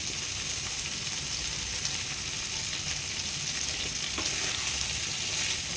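Potatoes fry in a pan in a home kitchen, a loud, close, continuous sizzle with occasional stirring scrapes.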